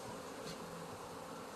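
Honey bees buzz during a hive inspection, a dense, steady hum of many wings close by, with no speech over it.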